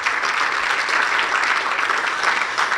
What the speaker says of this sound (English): So, you know, clap for Barney.